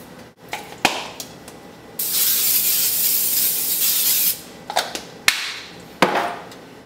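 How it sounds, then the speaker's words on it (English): Rice fries in a hot pan, giving a loud, steady sizzle that holds for about two seconds. Intermittent clanks and scrapes of a utensil against the pan come before and after it, and no one speaks. "The next step is you're gonna fry your rice."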